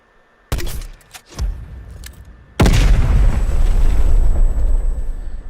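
In Black Ops Cold War on the Crossroads Strike map, a weapon fires two sharp reports, and moments later a heavy explosion lands, leaving a loud, sustained rumbling roar.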